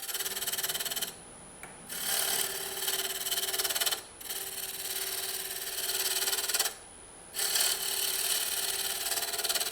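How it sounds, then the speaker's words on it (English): A woodturning tool scrapes across the face of a spinning wooden ring to flatten it, making a steady loud rasping that breaks off briefly three times before starting again. "Now I'm going to go across the surface and flatten that out."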